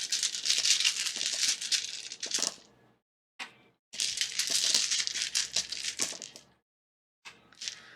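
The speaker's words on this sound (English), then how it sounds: "it is a little bit noisy while I shuffle the dice" Several small dice shuffled in the hands, giving a dense, bright clattering rattle in two long bursts, with short pauses and a final brief shake.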